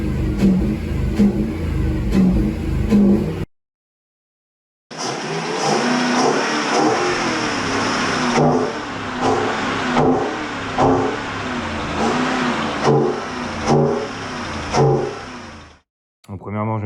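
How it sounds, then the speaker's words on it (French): A Lexus LS430 running on an E85 conversion, with a suspected fuel injection fault, revs in short throttle blips; the engine surges and falls repeatedly, loud and close, with a brief silent gap. "quand je donne des petits coups comme ça à l'accélération, on sent qu'elle peine"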